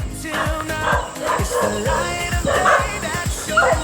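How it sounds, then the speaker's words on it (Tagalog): Dogs bark repeatedly in a fast, uneven series, some yips and whimpers mixed in, fairly close by. "May mga aso."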